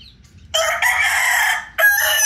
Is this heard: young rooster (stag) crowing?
yes